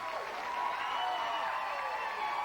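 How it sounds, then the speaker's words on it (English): Bowling fans cheering and applauding in Grand Rapids, Western Michigan, at the 2005 PBA Banquet Open, a steady crowd roar with clapping and voices calling out, continuous and moderately loud. "the fans are cheering her name here in Grand Rapids"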